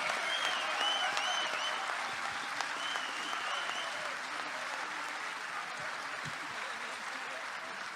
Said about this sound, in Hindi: थोड़ी और तालियों का असर